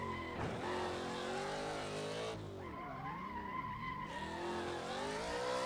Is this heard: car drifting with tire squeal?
yes